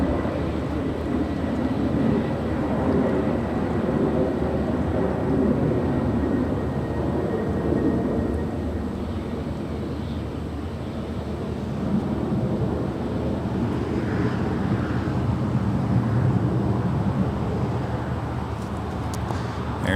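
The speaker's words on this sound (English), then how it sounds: "That is Delta 2554 departing to Atlanta there on the south side. It's a 767-300 ER." A Delta Boeing 767-300ER departs LAX on the south side, its low jet engine roar heard from a distance as a steady, broad rumble that swells slightly over twenty seconds.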